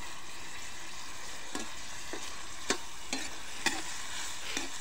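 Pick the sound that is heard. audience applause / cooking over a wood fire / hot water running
cooking over a wood fire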